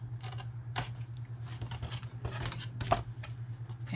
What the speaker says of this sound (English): I am going to use my scissors this time so I can get in there real close